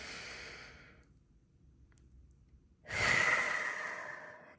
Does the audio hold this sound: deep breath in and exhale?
yes